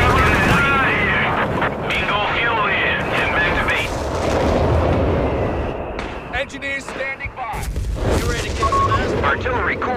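Artillery fire and gunfire in a Company of Heroes 3 battle with US Forces, loud booms and bursts of shots rolling over a dense combat din while a voice talks throughout.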